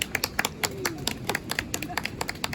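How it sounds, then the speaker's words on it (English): Small group applauding Mum at a half marathon presentation, a light scattering of individual claps in an uneven rhythm, close and fairly quiet. "big round of applause for Mum!"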